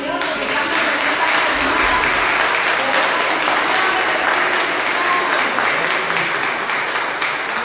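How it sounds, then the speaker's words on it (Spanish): Continuous, full applause from a church congregation at an evening prayer meeting, a thick even roar of many hands clapping that holds steady from start to finish. "aplauso al Señor"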